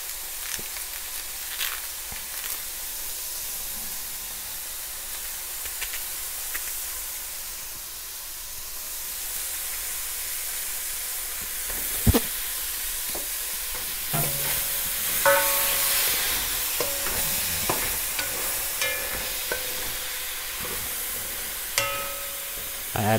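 Onions sautéing in a pan alongside asparagus and mushrooms, a steady low sizzle with scattered stirring scrapes and clinks that grow busier and louder in the second half.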